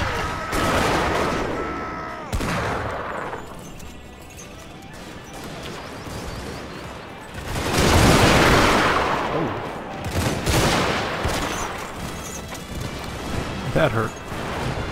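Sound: units firing guns in video game Steam & Steel: Total War

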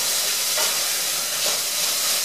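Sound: stirring sizzling tomato paste in a pan

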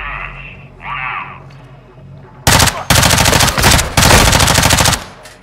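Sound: gunfire in video game Call of Duty Modern Warfare 2

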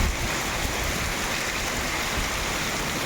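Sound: rain falling

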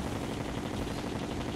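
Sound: video game shots firing

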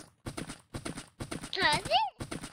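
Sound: horse hooves clip-clop while riding in Minecraft video game

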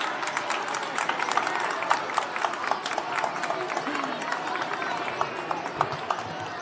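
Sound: schoolchildren's applause at a ceremony

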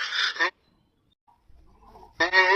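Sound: person imitating a chicken

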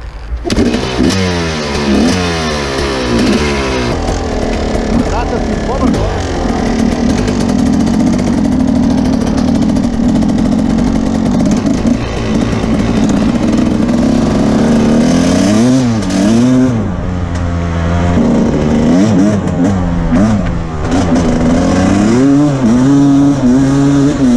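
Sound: two-stroke motorcycle engine revving

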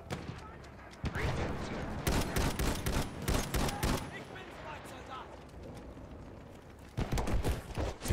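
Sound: machine gun fire in the video game Battlefield 1

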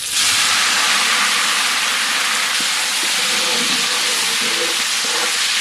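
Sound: cinnamon, fennel and curry leaves frying in hot oil for egg gravy

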